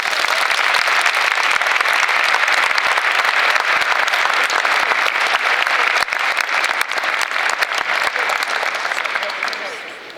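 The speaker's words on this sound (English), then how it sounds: "if you join me in applauding for Amelia Pascal." Sustained applause from a crowd at a school signing-day ceremony, loud and steady throughout, tapering off slightly at the very end.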